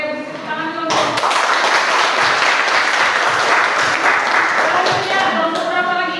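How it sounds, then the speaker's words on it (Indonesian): Classroom applause after a student group presentation: dense, steady clapping from many hands starts sharply after a brief voice and carries on loud and close for several seconds before tapering slightly. "Oke, beri tepuk tangan dulu."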